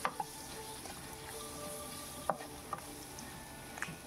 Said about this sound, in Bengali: লবণটা দিয়ে ভালো করে একটু নাড়িয়ে চাড়িয়ে নিচ্ছি।